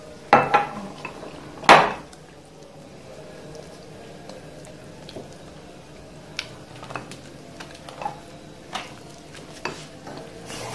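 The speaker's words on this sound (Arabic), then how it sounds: "هنقلب كده لحد ما يبقى عندنا عجينة ناعمة شوية وسايلة" Flour and water batter for luqmat al-qadi stirred in a bowl, with scattered clinks and scrapes of utensil against the dish, a couple of louder knocks early on, then soft irregular stirring taps, close and alone.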